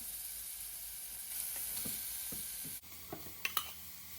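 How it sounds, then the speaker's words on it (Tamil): Grated beetroot sautéing in hot coconut oil in a home kitchen for a pachadi, a steady close sizzle with occasional scraping stir strokes and a louder burst of crackling toward the end. "ஆயில் கொஞ்சம் ஹீட்டாக அதில் இந்த ஸ்க்ரேப் பண்ணி வச்ச பீட்ரூட்டை வதக்கி எடுக்க போகிறேன்."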